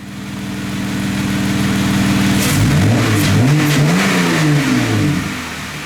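A 2012–2017 Jeep JK engine fitted with a Rugged Ridge throttle body spacer idles steadily, then revs up and down several times in loud, close bursts before settling.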